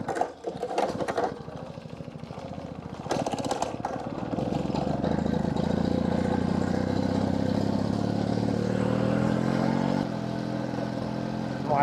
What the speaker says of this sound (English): So I'm gonna go on the Mobylette MobyX because it's a folding moped.